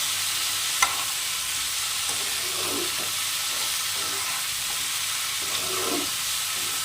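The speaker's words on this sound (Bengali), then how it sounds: "দিয়ে আবারও ভালো করে নেড়ে চেড়ে সবজির সাথে মশলাটা মিশিয়ে নিতে হবে।" Vegetables with ginger paste and cumin powder stirred in a hot pan, a steady loud sizzle with the scrape of a spatula at intervals and no talk.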